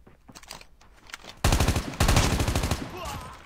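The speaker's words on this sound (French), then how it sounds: "Parce qu'on les entend quand même d'assez loin les coups de feu." Automatic gunfire rattles in Call of Duty Mobile: faint scattered shots at first, then sustained loud rapid bursts close by.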